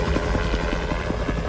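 A helicopter flies overhead, its steady low rotor thump and engine roar filling the sound loudly and continuously with no pauses.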